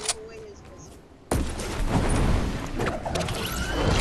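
Video game gunfire aimed at the player arrives as a sudden burst of shots after a quiet start, then continues as busy, overlapping rattling fire and mechanical clatter, fairly close, with a voice talking underneath.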